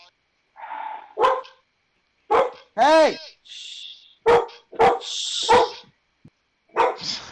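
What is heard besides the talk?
dog barking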